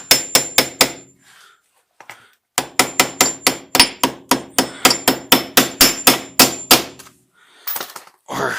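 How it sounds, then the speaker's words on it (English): A hammer taps the cap onto a rear brake drum of a Ford Focus, sharp metallic strikes close up: a few quick hits, a pause, then a long steady run of evenly spaced blows. "Just lightly tap it with a hammer."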